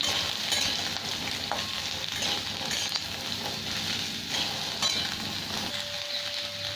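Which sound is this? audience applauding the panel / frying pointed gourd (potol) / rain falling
frying pointed gourd (potol)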